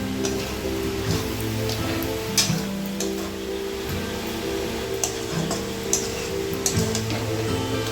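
Chopped tomato dropped into hot spiced oil in a pan over a low gas flame, giving a steady, close sizzle with faint crackles and a few sharp pops, no talking.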